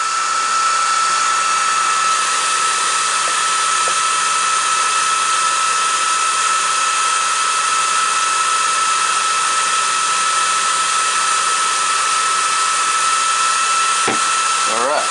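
An Atomstack S20 laser engraver works with an Xtool RA2 rotary chuck turning a one-inch wooden dowel, giving off a loud, unbroken high whine and hum that stays steady throughout, with a short click near the end.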